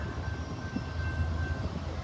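CSX freight train I029 pulling away from a siding and heading south at Princeton, Indiana, on the CE&D subdivision; a low steady rumble of engines and rolling cars, moderately loud and constant, with no talking.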